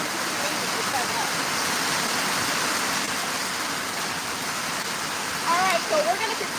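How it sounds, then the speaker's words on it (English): Heavy rain pours down outdoors during a yoga flow, a steady, loud wash of falling water filling the whole stretch, with a brief voice rising near the end. "Yeah, it's like pouring down and stuff"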